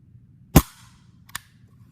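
A Sig Sauer P220 pistol's hammer falls on a heavy double-action dry trigger pull. One sharp, close metallic snap is followed a moment later by a softer click, against near silence.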